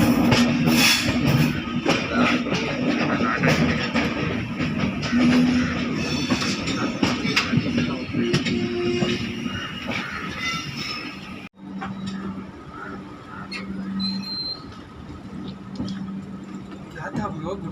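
Mysuru Shatabdi Express train (12007) pulling into a station platform, a loud, close rumble and clatter for about eleven seconds, then a quieter stretch of station ambience with faint voices in the background.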